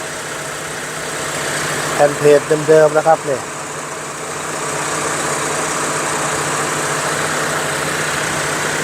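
A Honda City 1.5 VTEC engine idles steadily at a low, even rumble while someone speaks briefly over it.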